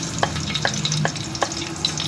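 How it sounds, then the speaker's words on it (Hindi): A medium onion frying in hot mustard oil in a pot, an even sizzle with several distinct stirring clinks against the pot at irregular intervals. "प्याज को हम लाइट ब्राउन कर लेंगे। हमने इसमें सरसों का तेल लिया है"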